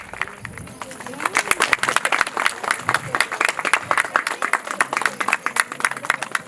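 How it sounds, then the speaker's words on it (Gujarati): At a KGBV Kantrodi school annual function, a crowd claps for a student honoured with a prize, sharp individual claps building into continuous applause with voices talking over it. "તો જોરદાર તાળીથી વધાવશું"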